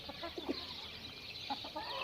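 Chickens and white roosters in a coop make scattered soft clucks and short calls over a steady background hiss, with no talking.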